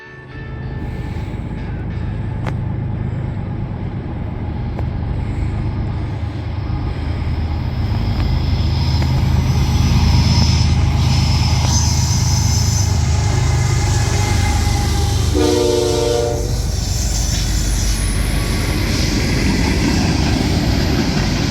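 A freight train rolls past with a WFRX SD70 locomotive, the 1998-built former BNSF 8965, a steady loud rumble and wheel roar building and holding for the whole stretch, with a brief horn-like tonal burst midway.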